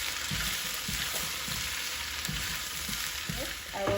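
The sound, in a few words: stirring bora and tomato frying in a pan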